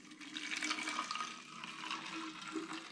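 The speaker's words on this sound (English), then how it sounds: "What's in the hydrometer tube I'm going to pour into this plastic bottle." A hydrometer-tube sample of cola-flavoured hard apple cider is poured into a plastic bottle, producing a faint, steady liquid gurgle and trickle for a few seconds.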